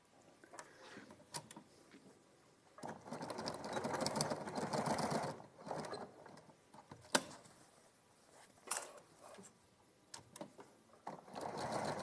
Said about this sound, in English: So I'm now going to sew across, down, yeah, across and up.